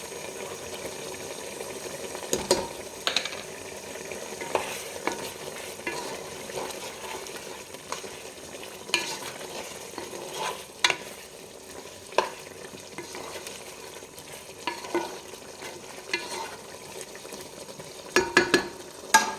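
Spices fry in a pan for a roasted-coconut chicken curry, a soft continuous sizzle with scraping stirs and occasional clinks of the spoon against the pan, close and fairly quiet with no talking.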